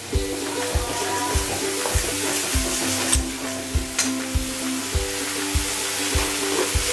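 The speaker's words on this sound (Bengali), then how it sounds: "এগুলো সব দিয়ে আমি মশলাটা একটু ভালো করে কষিয়ে নেব।" Masala with Kashmiri chilli powder and cumin powder sizzles steadily in a pan for a flat bean kofta curry, with regular spatula scrapes and taps clicking through the continuous frying hiss.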